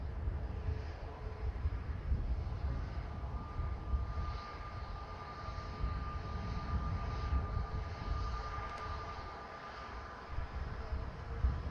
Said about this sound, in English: this New York JFK outbound of Virgin Atlantic on board Diamond Girl.